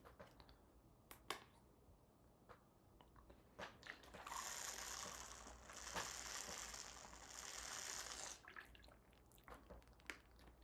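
Loud gulps and clicks from a drinking bottle come through in a quiet room, a dense burst of sloshing, rattling noise lasting about four seconds between sparse taps and clicks.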